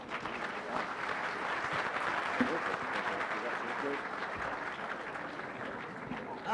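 Sustained applause from a conference audience for a panel of speakers, a dense, even wash of clapping that holds steady at moderate loudness throughout and tapers slightly at the end.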